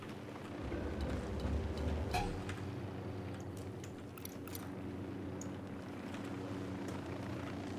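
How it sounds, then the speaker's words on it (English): Helicopter in the Ghost Recon Wildlands video game, a steady low rotor and engine drone filling the background throughout, loudest early on, with scattered clicks and thuds of gameplay on top. "Chopper inbound."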